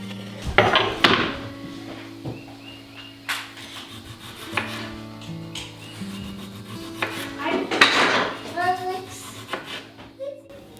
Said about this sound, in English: I am slicing up some tomatoes to go on my sandwich